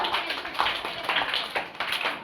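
A quiz show studio audience claps for a winning contestant, giving a short burst of scattered, moderately loud applause with individual claps audible.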